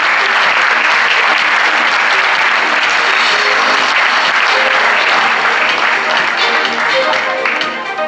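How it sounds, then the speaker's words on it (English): Applause from a large conference audience at the 2015 Samsung SSD Global Summit in Seoul, a loud, dense, sustained round of clapping that fills the hall for about eight seconds before starting to thin at the end. "Let's welcome Mr. Jung with a great round of applause."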